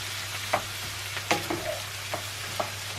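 Onions frying in a pan on a boat galley stove for chicken curry, a soft steady sizzle broken by a few sharp scraping stirs of a utensil, close and with no talking.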